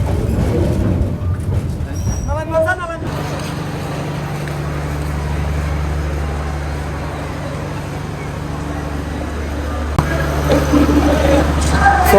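A tourist train on the Chattogram to Cox's Bazar line runs with a loud, continuous low rumble and droning hum, with a brief squealing, whining stretch early on and a shift in the rolling noise near the end.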